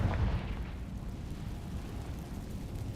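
A Confringo fire spell in Hogwarts Legacy bursts with a loud, close explosive whoosh that settles into a broad rumbling roar for a few seconds. No one speaks.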